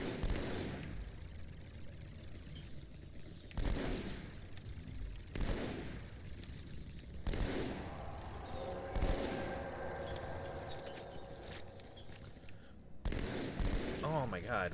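Repeated bursts of gunfire from Halo 2 in a co-op Legendary session, sharp shots and rapid volleys recurring every couple of seconds over a busy battle din, with faint voices now and then.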